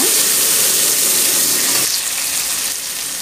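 Onions sizzle in hot oil in a pan with mustard seeds and cumin for a Tamil cabbage poriyal. The frying hiss is loud, close and continuous, and it drops slightly after stirring partway through.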